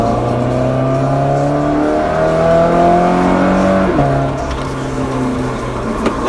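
A Toyota FT86 Rocket Bunny with a naturally aspirated engine revs loudly and close by, its pitch climbing and holding through several steady pulls before dropping back, with no talking.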